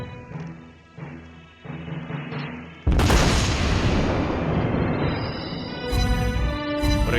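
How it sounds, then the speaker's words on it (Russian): Warship guns in a naval video game fire armor-piercing shells, letting off a heavy booming blast with a long rumbling roar that follows earlier softer game tones and rises again near the end. "Давайте испытаем бронебойные снаряды в бою."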